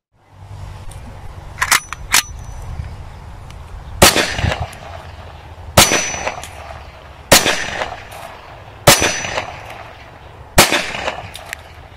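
Loud blank pistol shots crack one after another at roughly regular intervals, each sharp bang followed by a short echo, with faint mechanical clicks before.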